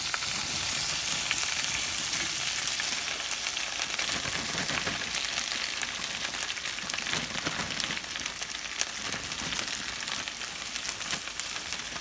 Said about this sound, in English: the first thing you want to do is to fry your okra